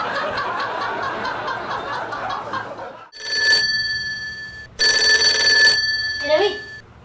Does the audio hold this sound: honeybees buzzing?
no